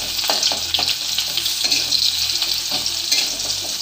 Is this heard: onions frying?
yes